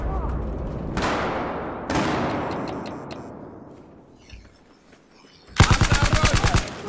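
In the video game Battlefield 4, two long booming blasts fade away, then a sharp burst of rapid machine gun fire rattles loudly near the end.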